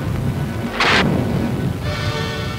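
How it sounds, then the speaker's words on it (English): A duct explosion in a 1961 factory safety experiment with relief vents gives a single sharp blast with a short bright burst, then a fading rumble and hiss over steady background noise. "This experiment shows how safety vents can reduce the force of an explosion."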